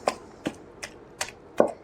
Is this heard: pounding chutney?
yes